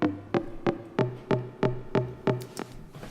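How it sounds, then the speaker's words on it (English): Chorus-processed synth layer from an electronic dance drop, playing eight short, evenly spaced punchy stabs with a steady rhythm, loud and alone with no voices. "that chorus layer sounds like this"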